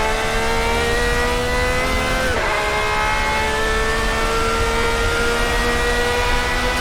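Race car engine in Assetto Corsa, a classic endurance car, revving hard and climbing through the gears at high speed, with a sharp upshift midway and steady, loud drone throughout; faint talk may sit underneath.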